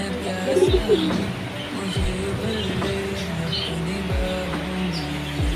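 Caged pigeons coo in repeated low, throaty calls close by, with brief chirps and faint background noise around them.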